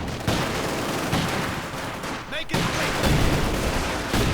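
Battle gunfire from the strategy game Company of Heroes 2: a constant dense clatter of rifle and machine-gun shots with a few heavier bursts, loud and continuous, interrupted by one short dip before it resumes.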